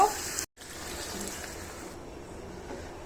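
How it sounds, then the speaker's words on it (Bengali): Hot water added to fried rice in a pot for beef tehari, a steady broad hiss and rush right after a short break, continuing evenly at moderate volume. "এখন আমি গরম পানি দিয়ে দিব"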